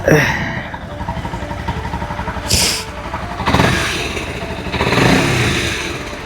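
A motorcycle engine runs steadily throughout, a continuous mid-pitched rumble with a few brief clattering bursts, moderately close and without speech.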